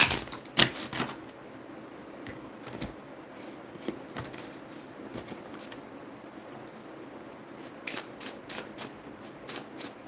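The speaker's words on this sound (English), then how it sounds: "I'm just shuffling all the cards." A deck of tarot cards is shuffled by hand, with a quick riffle near the start, then soft, irregular slaps and flicks of the cards that end in a fast run of crisp taps, close and quiet.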